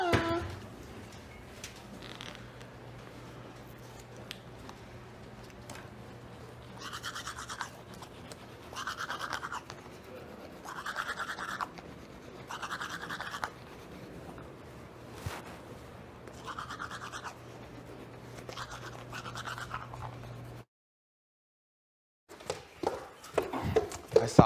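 Toothbrush scrubbing in repeated short bursts at close range, with quieter stretches and a steady low hum, stopping briefly near the end before handling noises return.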